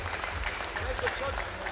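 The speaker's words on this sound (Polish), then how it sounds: "wielkie brawa" A boxing crowd at a World Series of Boxing bout applauds in a continuous, moderately loud clatter while a commentator talks over it.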